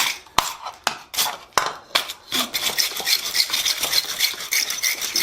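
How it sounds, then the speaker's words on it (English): A wire brush scrubs scale off the inside of a hot, freshly forged steel coal shovel scoop, hand-worked: sharp scraping strokes at first, then a dense, continuous bristly rasping up close, with no voices. "Brush all that scale from the inside."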